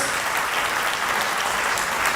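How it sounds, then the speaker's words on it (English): A wedding reception crowd gives a round of applause after the couple's parents finish their speech, a thick continuous wash of many hands clapping at an even, loud level. "please a big round of applause for that great and final speech from Vishal's parents"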